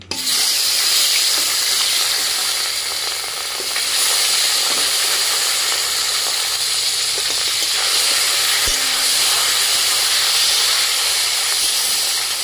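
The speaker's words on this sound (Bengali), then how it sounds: "এবার এই মাথাগুলোকে তেলে ফেললাম, ছাড়ছি।" Fish heads dropped into hot oil for a tangy rohu dish sizzle loudly and continuously, a dense close hiss of frying with a brief knock partway through.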